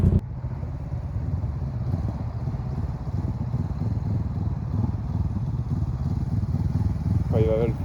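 A motorcycle accelerates to about 50 km/h and then brakes on a riding-test practice area, with a steady moderate engine drone running throughout and a voice speaking over it.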